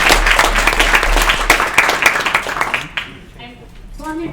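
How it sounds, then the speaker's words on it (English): A breakfast briefing audience applauds a speaker with brisk, dense clapping for about three seconds, then it fades and someone begins talking. "Round of applause everybody for Katie."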